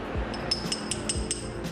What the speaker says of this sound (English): This is a glass bottle and it is really heavy